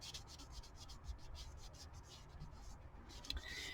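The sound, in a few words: rubbing colour onto an eco resin pumpkin casting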